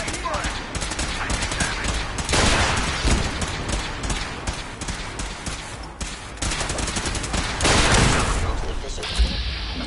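Dense gunfire in Fallout 4 combat, rapid automatic bursts and booming shots layered over one another, loud and continuous with brief lulls, with a robotic voice speaking over the fighting.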